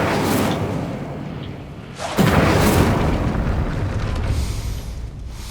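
Incendio fire spell cast in the video game Hogwarts Legacy: a loud burst that starts sharply about two seconds in and roars steadily to the end over a constant game ambience.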